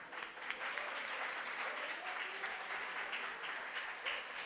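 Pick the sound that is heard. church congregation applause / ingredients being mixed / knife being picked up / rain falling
church congregation applause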